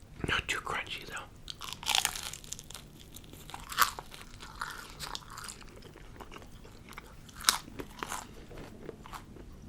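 Crunchy chewing of spring rolls and scallion pancakes, close and intimate, with sharp irregular bites and crackles spaced a second or two apart over softer wet chewing.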